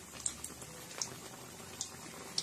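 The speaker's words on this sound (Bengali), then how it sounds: "আমার প্রথম পিঠাটি আমি তেলে দিয়েছি।" Tel pitha batter fries in hot oil in a pan, a faint, steady sizzle broken by scattered soft pops and crackles.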